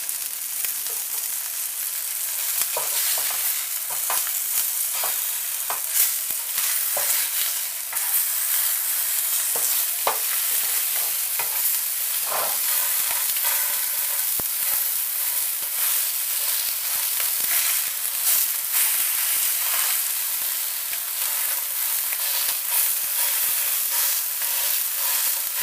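Continuous loud sizzling of fish frying in a hot pan over medium heat, with crackles and pops throughout, close up and without talk.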